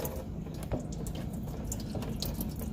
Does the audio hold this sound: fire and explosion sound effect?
no